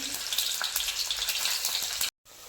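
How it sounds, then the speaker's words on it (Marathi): Paneer cubes roasting in a pan for a pulao with green peas give off a steady, close sizzle that stays even for about two seconds, then breaks off for a moment before resuming. "तीन ते चार मिनटं पनीर भाजून घ्यायचं"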